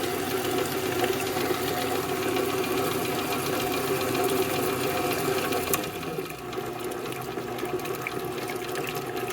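An electric mixer whisks cream until it separates into butter and whey, giving a steady, close motor whir with a watery churning that softens slightly partway through.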